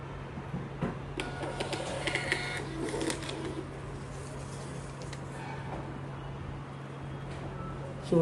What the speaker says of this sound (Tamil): ஸோ ஒரு 3 இன்ச்சில் ஒரு டெஸ்க்டாப் பிரிண்டர்ஸ் ஒரு அருமையான பிரிண்டர்ஸ் வந்துடும்